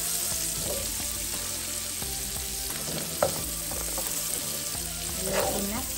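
Pancit noodles with pork sizzle and fry steadily in a pan while being stirred, the even crackle broken by occasional soft scraping knocks of the utensil.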